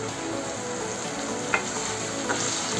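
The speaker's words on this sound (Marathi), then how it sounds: "टोमॅटो पण थोडासा भाजून घेऊया आणि नंतर बाकीचे मसाले त्याच्यामध्ये सोडूया आपण" Tomatoes and onion with salt fry in a pan, giving a steady, close sizzle throughout with a couple of faint clicks from stirring.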